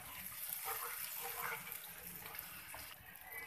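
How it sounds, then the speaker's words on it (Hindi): Water splashes steadily into a pan of arbi masala as it cooks, about one to two tablespoons poured in, a continuous close hiss and trickle throughout. "हमने इसके अंदर तकरीबन 1 से लेकर 2 टेबल स्पून के करीब पानी डालना है"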